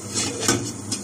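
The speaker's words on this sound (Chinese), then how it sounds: "这样盖上盖子，有点难盖上啊" A lid pressed onto a cooking pot of water set to boil for steaming sea bass, giving a few quick, close metallic clinks and scrapes as it is worked into place.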